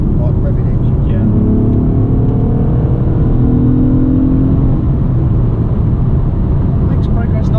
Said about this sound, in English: It's very free like revving engine.